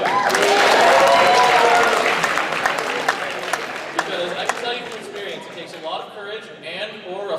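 A masquerade audience applauds itself, loud dense clapping at first that thins out gradually, with cheers and talking rising as it fades.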